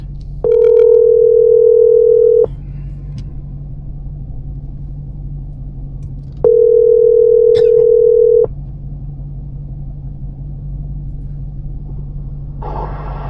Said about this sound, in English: Let's go ahead and make a call, get this gentleman on the phone